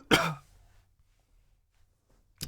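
Throat clearing and cough after a big bong hit: one harsh, rasping burst at the start, a stretch of near silence, then the onset of another rough clearing at the very end, close up with no talk.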